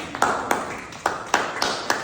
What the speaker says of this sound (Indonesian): Boleh, mau tepuk tangan